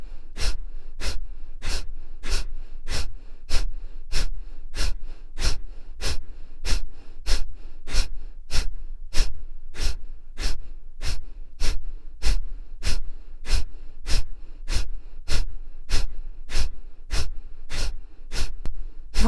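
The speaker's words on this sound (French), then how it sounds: "Je focalise mon attention sur les petits jets d'expire." Short, sharp, dry exhalation bursts from a yoga breathing exercise, about thirty quick puffs in a steady even rhythm, close and loud with quiet gaps between them.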